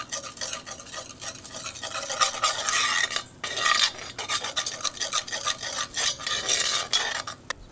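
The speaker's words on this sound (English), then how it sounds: "Browning up that flour real nice." Flour browning in a pan while a utensil stirs and scrapes it across the metal for a smoked kielbasa mac and cheese, rhythmic rasping strokes with short pauses, close and fairly loud, no voices.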